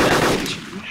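A loud, sharp burst of rapid gunfire from a DayZ survival video game rings out close and brief, fading quickly into a short tail.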